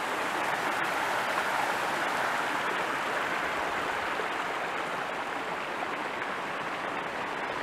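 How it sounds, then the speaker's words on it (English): A spring-fed stream on the Lost Coast Trail rushes steadily and close by, a continuous broadband wash of flowing water with no voices. "these streams must be spring fed"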